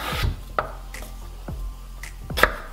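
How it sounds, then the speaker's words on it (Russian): A kitchen knife cuts a carrot into four pieces on a board, giving several crisp, separate chopping knocks spaced about half a second apart, close and clear with no talking. "Морковку разрезаем на 4 части."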